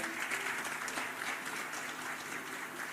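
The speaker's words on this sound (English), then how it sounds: "A big round of applause for both the gentlemen." Audience applause for two gentlemen joining a panel on stage, a steady, dense wash of clapping from a crowd, fairly distant and even throughout.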